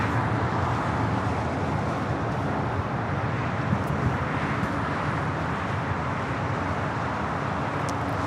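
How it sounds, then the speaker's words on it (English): A United Airlines Boeing 737 MAX 8 arriving at Los Angeles International Airport produces a steady, dense jet rumble and rushing roar, moderately loud and unbroken, with faint wind noise mixed in. "This flight coming in from San Jose, Costa Rica. United Airlines flight 1553."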